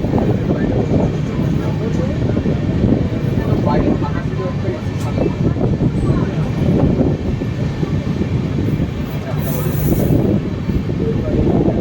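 Kulik Express passenger train with new LHB coaches rumbling steadily at a station platform, a continuous loud rolling roar with faint rhythmic clatter and a brief high squeal near the end, voices faintly underneath.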